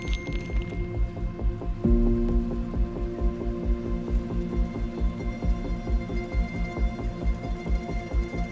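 Steady rain falls in the Pyrenees high mountains during a stormy traverse, a dense continuous patter of drops striking a nearby surface, loud and close, with no voices.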